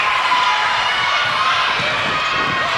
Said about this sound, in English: The cheer from the Sydney crowd as they realise their team should be home now